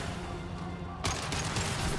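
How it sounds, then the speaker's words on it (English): A single gunshot fired in the video game Mass Effect 2 during a first-contact mission cracks out about halfway through, followed by continued game noise and ambience over a steady background drone. "I'll take the shot."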